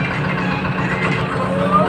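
A tractor engine idles with a steady, loud low rumble and drone, running evenly throughout while someone speaks over it.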